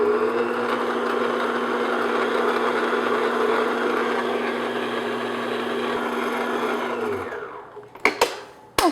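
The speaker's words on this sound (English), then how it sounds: "I'm going to beat these on about medium speed, just until they get nice and foamy." Electric hand mixer beating egg whites at medium speed in a home kitchen, a steady loud whirring hum that runs evenly for several seconds, then cuts off, followed by a few light clatters.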